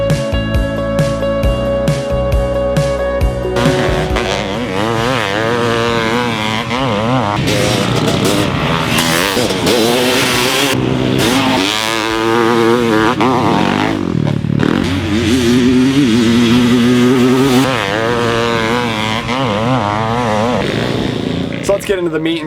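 A 1994 Honda CR500 two-stroke motocross bike rides a track, its loud engine revving up and down in repeated sweeping bursts, close and continuous throughout.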